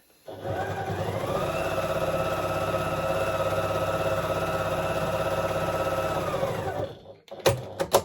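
A sewing machine stitches down a flat-felled seam on jeans, running in one steady, continuous whir for about seven seconds. It then stops, followed by a few sharp clicks and clunks, close by and with no talk.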